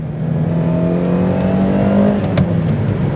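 1990 Toyota Corolla FX-GT with its 4A-GE engine revving hard, a loud, steady, rising engine whine with harmonic drone heard from inside the car while driving, a brief click near the end.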